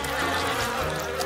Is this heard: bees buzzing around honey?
yes